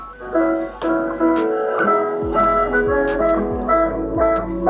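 Music plays through a JBL Boombox Bluetooth speaker with its casing still open, melodic tones over deep, dropping bass notes, steady and fairly loud with no talking.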